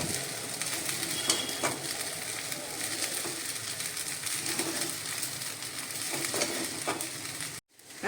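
Tapioca pearls and diced potato being sautéed in a pan for fasting-style sabudana khichdi, giving a steady soft sizzle with scraping stirring strokes throughout, close and moderately loud, ending in a brief cut of silence.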